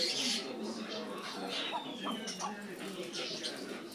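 Mother duck calling for her stolen nest and duckling, a series of soft nasal calls repeating over steady outdoor background noise, with someone talking nearby.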